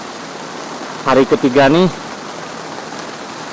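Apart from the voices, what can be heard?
rain falling on a tent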